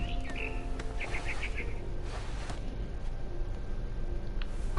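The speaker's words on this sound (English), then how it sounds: "Then I heard chirping outside my window. It was a barn swallow going back to her nest." Barn swallow chirping in a video game: a few short, bright bird chirps come in quick bursts near the start, heard over a steady low ambient background.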